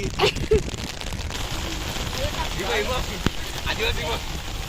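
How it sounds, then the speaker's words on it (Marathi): Heavy rain pours down outdoors on a hilltop during a friends' bhel snack outing, a steady dense hiss with gusty noise, while voices talk and call out over it. "काय वाट लागले कैरी मजबूत पाऊस आलाय"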